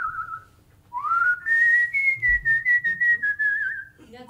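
A person whistles a sustained, wavering high tune alone, starting with a short note, then a long rising glide into a series of pulsed, trilling notes.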